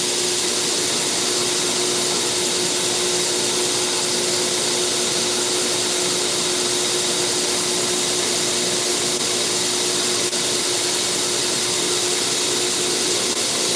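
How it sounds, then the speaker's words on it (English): A shop vacuum runs steadily and loudly in a knife-making workshop. It makes a constant roaring whine with an even hiss that does not change, and there is no talk over it. "vacuum on"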